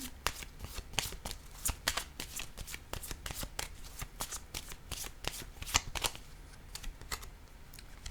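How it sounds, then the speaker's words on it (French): Cards from an oracle deck are handled while one pink card is drawn, making a quick run of crisp, close flicking and riffling clicks at an uneven rhythm, soft and alone with no voices. "je vais piger une carte rose ici"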